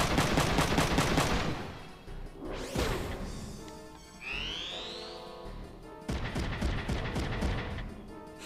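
Bursts of rapid gunfire hammer a shield in the mecha tactics game Front Mission 3, with loud clattering volleys, a whooshing sweep and a rising metallic whine between them, then another heavy salvo.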